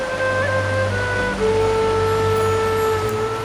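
Water streams steadily into the Blatašnica river in a canyon near Zvonačka Banja, a continuous broadband rush with sustained tonal hum layered over it, with no talking.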